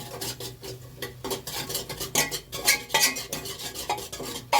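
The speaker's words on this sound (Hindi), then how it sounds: "ये मटर है थोड़ी सी और टमाटर इसमें फ्राई हो रहे हैं।" Tomatoes and peas frying in a pan for khichdi, with a steady sizzle under repeated scraping and clinking of a spoon stirring against the metal, close and fairly quiet.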